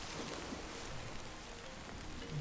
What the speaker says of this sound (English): hopefully the rain doesn't hurt us too much.